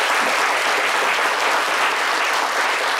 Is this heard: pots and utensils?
no